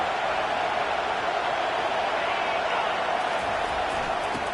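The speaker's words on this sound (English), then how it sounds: "This crowd bringing the energy and noise early" A dense, roaring American football stadium crowd at a UK Wildcats game fills the air with continuous noise, a broad steady wash of many voices from a large gathering.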